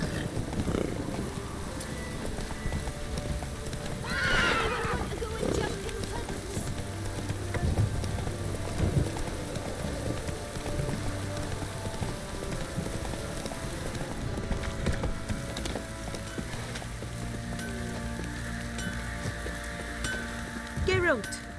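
Roach, the horse in The Witcher 3, gallops with continuous muffled hoof clatter mixed with patter like rain, while game dialogue and effects sound over it.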